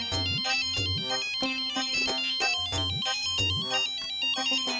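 A telephone rings in a Hindi comedy sitcom scene with a loud, steady electronic ringtone melody that repeats in bright, rhythmic phrases and carries on without any talking.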